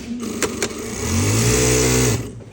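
A sewing machine stitching a sweatshirt sleeve, a brief whirring run with a steady motor hum that rises and holds for about a second before stopping, close up, preceded by a couple of small clicks.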